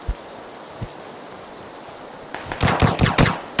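Vector submachine gun firing in a video game, a short rapid burst of loud shots near the end after a few isolated thuds over quiet background noise.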